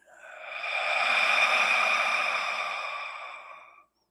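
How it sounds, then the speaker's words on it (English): A single long, slow exhale during qigong dantian breathing, a breathy hiss that swells smoothly, holds for several seconds and fades out close to the mic, with no talk. "Exhale and return it."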